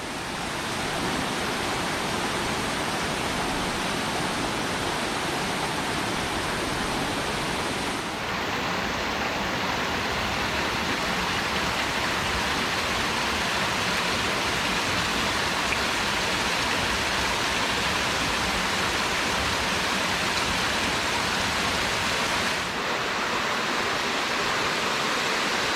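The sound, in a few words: 40-metre waterfall falling into a large pool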